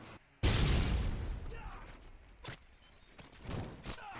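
Rifle fire from an MK14 in Modern Warfare 3 gameplay: one loud shot with a long echoing tail, then fainter sharp cracks and a few more distant pops.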